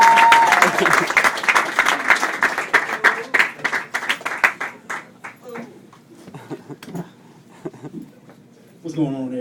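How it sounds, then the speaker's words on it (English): A pub audience at a comedy show claps and hoots for a comedian. A dense burst of applause tapers into scattered claps that fade by the middle of the clip, then talk and laughter take over near the end. "Start clapping right now."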